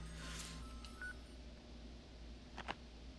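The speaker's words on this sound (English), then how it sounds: "My Game Boy is ringing." An in-game Game Boy rings in a video game as a few short electronic ringtone beeps over a steady low background hum, with no talking.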